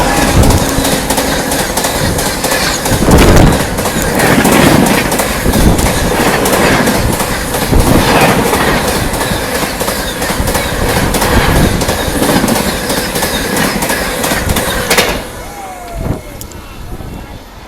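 The Ranchi–New Delhi Rajdhani Express passes during an overtake, a loud continuous rush of rolling wagons with rhythmic clickety-clack of wheels over rail joints, close by, fading out at the end as the last coach clears.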